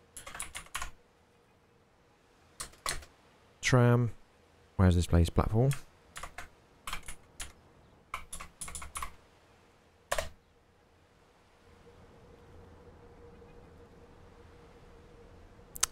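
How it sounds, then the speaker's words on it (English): Bursts of computer keyboard typing for a Transport Fever 2 rail-building session, with clicks scattered across the stretch and someone speaking briefly between them; close, fairly crisp keystrokes with pauses and a faint hum near the end. "we want to start typing."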